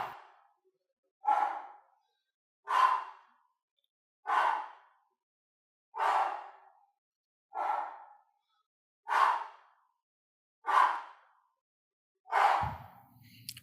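Nine sharp, forceful exhalations during an overhead kettlebell press, evenly spaced about one and a half seconds apart, close and clear with silence between each breath.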